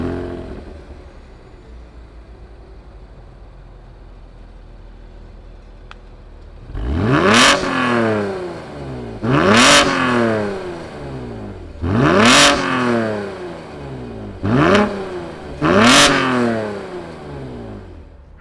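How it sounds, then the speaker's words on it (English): A 2020 Chevrolet Camaro RS 1LE V6 starts from near silence, then gives five loud, close revs, each rising sharply and falling back to idle in a steady rhythm, with no talking. "fire up this V6 and see what it sounds like"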